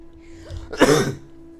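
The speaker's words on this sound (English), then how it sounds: "Again, I apologize for the cough." A single short, harsh cough or throat clearing, close and fairly loud against a quiet background hum.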